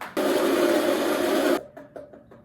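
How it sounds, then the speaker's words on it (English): A home coffee machine runs with a loud, steady grinding buzz for about a second and a half, then stops abruptly, leaving faint clicks and drips. "So my coffee machine's over here, so let's make a coffee."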